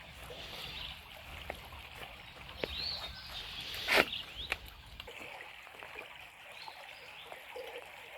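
A small stream trickles and babbles softly and continuously, heard fairly close, with a few brief splashes and faint chirps standing out over the gentle flow.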